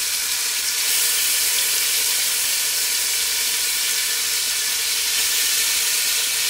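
Turkey neck fries in a pot for brown stew, a steady, loud, bright sizzle and hiss that holds constant throughout without any talk.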